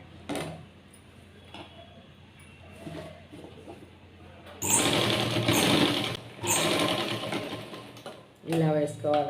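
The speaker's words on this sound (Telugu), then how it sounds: "నేను మిషన్ స్టిచ్చింగ్ వేసేస్తున్నాను" A sewing machine stitches fabric with piping, running in loud rapid bursts with pauses between them. A person speaks quietly before the machine starts.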